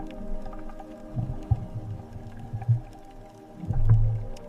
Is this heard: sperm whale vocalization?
yes